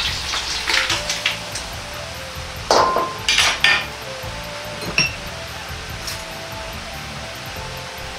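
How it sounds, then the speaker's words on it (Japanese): Shrimp crackle and sizzle steadily in hot oil in a wok, with occasional sharp metallic clinks and scrapes of a utensil against the pan. "エビを油通しします。"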